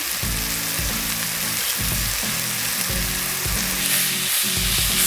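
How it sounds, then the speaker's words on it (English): Loud, steady sizzling of chicken for Nando's-style wraps frying in a pan, with a rhythmic low thudding pulse underneath and no talking. "now the chicken is sizzling and cooking"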